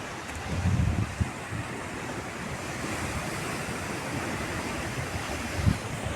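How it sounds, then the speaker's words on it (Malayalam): Sea waves wash against rocks at Malvan beach, a steady broad roar of surf mixed with wind noise, with a couple of heavier low thumps as waves break. "അപ്പോൾ തിരയടിച്ച് കയറുന്നത് നമുക്ക് ഇവിടുന്ന് കാണാൻ പറ്റും"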